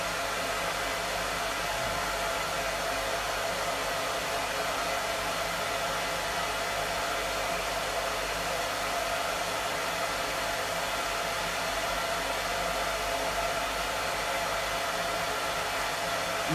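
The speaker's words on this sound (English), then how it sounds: "the hair dryer is blowing" Hair dryer blowing while a dog is groomed, a continuous loud, even whooshing roar with a steady hum, unbroken for the whole stretch and with no talking.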